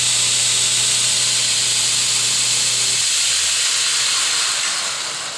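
A DSM grinder with a 1hp motor runs under full belt and pulley load, a loud steady hissing roar with a motor hum that drops away partway through as the machine keeps whirring.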